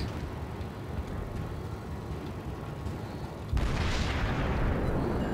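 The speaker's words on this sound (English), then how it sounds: "Ooh, incoming shots. New York, it looks like." Naval gunfire from a New York battleship in World of Warships, incoming shells landing as a sudden loud boom partway through, with a steady rumbling battle ambience before and after.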